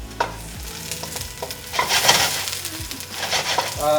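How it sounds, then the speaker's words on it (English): Mushrooms searing in hot oil in a pan, cooked for tom kha gai, give a loud steady sizzle with scattered stirring clatter and scraping, close up and without talk. "you always want hot oil, get those mushrooms in there, get some sear on them, get some golden on the outside"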